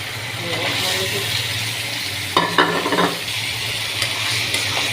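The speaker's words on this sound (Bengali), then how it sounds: "এখন আমি আলু দিয়ে দিই।" Potatoes drop into a pan of oil rendered from duck skin and fry with a steady sizzle, a brief burst of clatter and stirring in the middle, with faint voices in the background.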